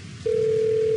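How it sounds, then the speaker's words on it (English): Steady electronic telephone tone sounds in the horror video game Six Nights at Pinkie's 2, starting abruptly after a quarter second of quiet room hiss and holding loud and unbroken to the end. "Stay and wait for the phone call, please."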